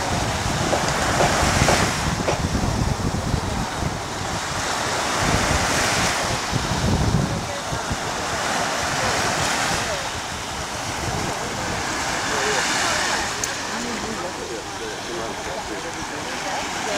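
Sea waves washing onto the shore at Ayia Napa, Cyprus, in a steady rolling surge with swells rising and falling, mixed with gusty wind buffeting the microphone.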